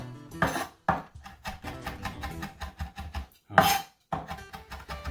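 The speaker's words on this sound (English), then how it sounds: "You just want to cut this up. This is about 2 teaspoons worth of rosemary" Rosemary being chopped with a knife on a cutting board in a kitchen: a quick run of crisp, close taps with short pauses between bursts, one louder knock partway through, nearly alone with a brief exclamation.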